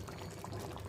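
Vegetable water trickles slowly into a pot of bitter gourd and onion curry, a soft continuous pouring splash, quiet and close.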